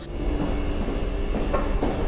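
Metro train running through a backrooms setting, a steady low rumble with faint rhythmic rail clatter and a couple of soft knocks, continuous and fairly loud throughout.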